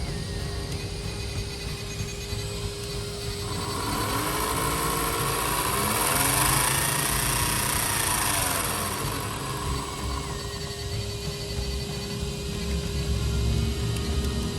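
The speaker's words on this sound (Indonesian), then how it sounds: "Oh, coba kita nyalakan gearnya ya." A 1/10-scale electric RC car with a full metal gearbox runs after being oiled, giving a steady mechanical whir and hum that rises to a brief whining peak midway and then settles back.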